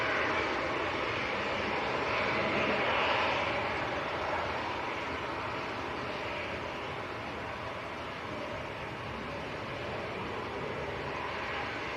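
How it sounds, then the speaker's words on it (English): Ryanair airliner arriving at Manchester Airport in crosswinds, a steady broadband jet roar that swells slightly around the third second and then holds at a constant level for the whole stretch, with no talk. "Next arrival is going to be a Ryanair."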